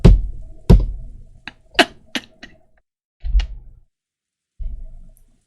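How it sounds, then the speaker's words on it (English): Loud, painful banging on a door in a visual novel game: heavy thuds in an irregular run, several close together, then two more isolated blows after pauses. "As though the painfully loud banging on the door completely failed to enter his hearing"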